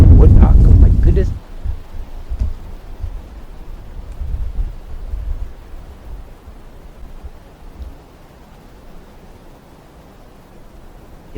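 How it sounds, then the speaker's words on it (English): Wind by a river blasts into the microphone in a heavy roaring gust at first, then settles into softer low rumbling buffets that slowly fade to a quiet whoosh. "So windy."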